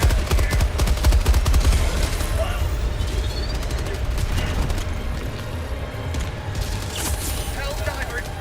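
Machine gun fire in Helldivers 2, a dense run of rapid shots with booms and mechanical clatter throughout, loud and close, with battle noise underneath.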